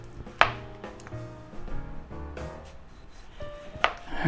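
A knife slices through a tomato on a cutting board for a cabbage pie, giving a few separate sharp chops with short gaps between them. The cuts sound close and clear, with no talking.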